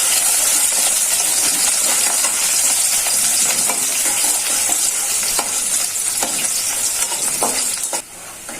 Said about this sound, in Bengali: তেলটা গরম হয়ে গেছে, পেঁয়াজ গরম তেলে পেঁয়াজটা বাটা হয়েছে।